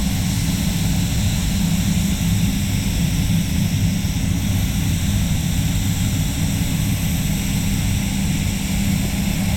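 Spray gun laying quartz liquid glass clear coat on a car respray, a loud continuous hiss and rushing drone, steady and close throughout without pauses or talk.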